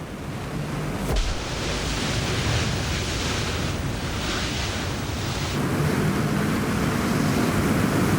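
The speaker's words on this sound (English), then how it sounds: "The wind speeds Beck is now experiencing could destroy a caravan." Strong hurricane-force wind at Category 3 speeds, a loud, constant roaring rush that swells and buffets without a break, with a brief jolt near the start.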